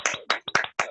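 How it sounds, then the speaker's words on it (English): A few people clap together at the end of an interview, four or five sharp, close claps in an uneven rhythm, with no talking. "We have this thing we do here, so we can clap the hands now"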